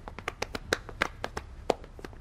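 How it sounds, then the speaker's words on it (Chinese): A small group claps in scattered, uneven claps, each one distinct and fairly close rather than merging into a steady roar, with no voices over it. "大家鼓掌"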